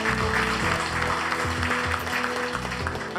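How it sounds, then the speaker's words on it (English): A group claps steadily and continuously for a few seconds, a dense, even wash of applause over a low background rumble, with no talking over it. "Give yourselves a round of applause."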